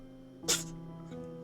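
A single short, sharp sneeze bursts out close by against a quiet hum of background tones.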